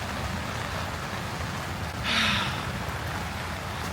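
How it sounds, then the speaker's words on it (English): Heavy rain pours steadily on an outdoor Renaissance faire market, a dense, even hiss from start to finish, with a brief louder splash or rustle partway through and no speech. "It is a downpour."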